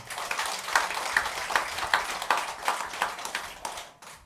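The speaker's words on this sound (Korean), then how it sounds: "박수 쳐주세요" Light, scattered clapping from a congregation at a regular Buddhist temple service, fairly quiet and uneven, fading out over a few seconds.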